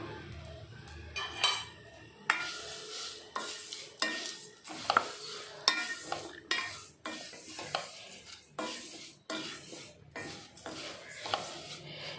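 Urad dal frying in ghee in a pan on the stove, with a spoon stirring and scraping against the metal in steady repeated strokes over a soft sizzle. The sound is close and fairly quiet.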